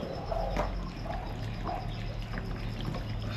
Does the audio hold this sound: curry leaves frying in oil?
no